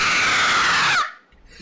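A woman lets out a loud, sustained scream lasting about a second before cutting off abruptly, set within a comic domestic scene of a belt beating over hidden money.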